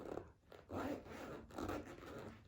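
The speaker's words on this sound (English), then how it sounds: "Functional zippers." A zipper on an Acetech AC6000 MKIII carry case pulled back and forth several times, quiet rasping strokes close up with short pauses between them.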